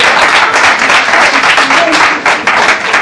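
Audience at a speech breaking into loud, dense applause and clapping, a continuous wash of claps close by with no pauses and no talking over it.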